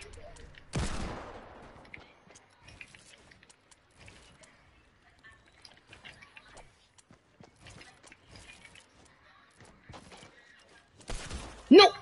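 Two loud, isolated gunshots in a video game, one near the start and one at the end, with a long quiet stretch of faint clicks and movement between them.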